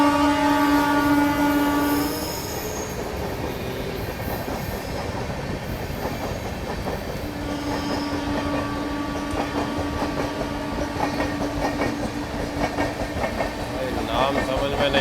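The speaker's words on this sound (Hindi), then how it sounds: "कोई और ट्रेन गोविंदपुरी रेलवे स्टेशन पर अराइव कर रही है" A train arriving at Govindpuri railway station in India, opening with a loud sustained horn blast, then steady rumbling and clattering wheels on the rails with a second long horn, heard close and loud throughout.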